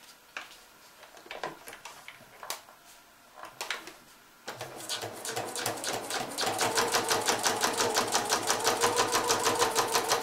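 Sewing machine stitching a thick piece of cork fabric, starting with scattered clicks and handling taps, then a steady rapid mechanical chatter of needle strokes growing louder and more regular toward the end.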